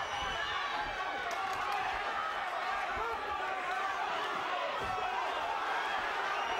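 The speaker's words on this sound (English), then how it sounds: "Listen to the crowd." A boxing arena crowd roars steadily and loudly through a twelve-round bout with a Belgian challenger, a dense continuous wall of cheering and noise with no breaks.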